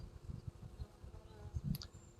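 Honey bees buzz around a hive in the bee-keeping game Bee Aware, a steady, low insect drone that swells and fades in uneven pulses, fairly faint with no talk over it.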